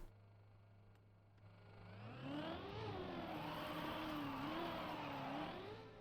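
A race car engine in the Trackmania video game rises to a sustained high rev, its pitch wavering as it holds speed, steady and fairly quiet with no talk.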